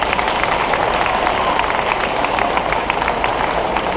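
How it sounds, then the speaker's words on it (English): A graduation audience claps steadily, a dense, even wash of applause at fairly close, loud level with no pauses. "Please, let's give them a round of applause."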